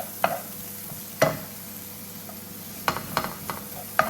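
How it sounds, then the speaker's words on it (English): Food for a full fry-up cooks in a pan over lowered heat, giving a low background sizzle with a few sharp scrapes and clicks from a spoon at uneven intervals. "So we'll just fry these off for like probably a minute or two."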